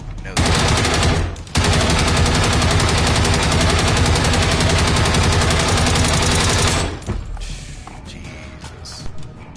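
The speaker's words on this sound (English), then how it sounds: "God, that is a grenade launcher?" Weapon fire from a grenade launcher in Generation Zero roars in a loud, sustained burst lasting several seconds, broken by a brief gap early on, then cuts off into quieter scattered noise.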